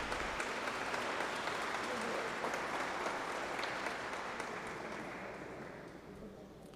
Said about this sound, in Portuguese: Uma salva de palmas para os nossos agraciados.